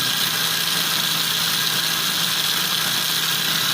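A Marx toy train motor runs at about 180 RPM on a test bench, producing a steady, even electric hum with a hissy high whine, unchanging and close for the whole stretch, with no talking.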